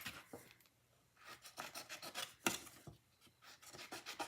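Scissors trimming a paper pumpkin pie die cut, quiet close-up rasping snips and rubbing paper strokes in an uneven rhythm of short bursts.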